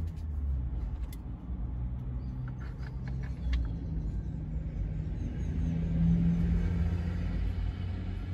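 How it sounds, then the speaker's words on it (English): Coaster bus pulling in at Cross Roads, Jamaica, early in the morning; a low engine rumble builds and holds steady, with faint street noise and a few chirps above it, nearby and fairly loud. "Coaster bus just coming in."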